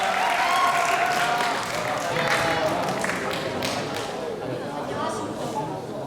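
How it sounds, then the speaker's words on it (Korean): A crowd at a student speech contest applauds a student speaker, a broad wash of clapping over which a voice talks. "큰 박수 부탁드립니다"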